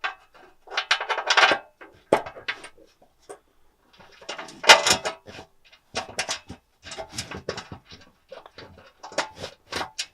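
Bolts and washers are handled and fitted while installing under-seat storage in a Chevrolet Colorado/GMC Canyon pickup: scattered short metallic clicks and clinks, close and fairly faint, in uneven bursts with quiet gaps.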